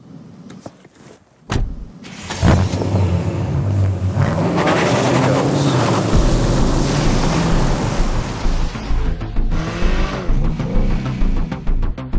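A BMW 8 Series coupé's 4.4-litre twin-turbo V8 petrol engine fires up after a brief quiet moment, then roars loudly and steadily as the car drives, with the tone rising and falling.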